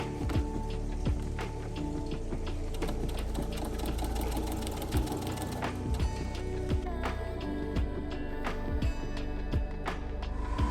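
A sewing machine stitching thick fur and leather straps for a Viking costume runs in a steady, close mechanical whir with a rapid rhythmic clatter, occasionally slowing and speeding up.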